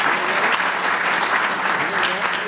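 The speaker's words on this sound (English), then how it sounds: "we should give them a round of applause" Steady, dense audience applause at a university lecture hall, a full room clapping continuously at even loudness for the whole short stretch.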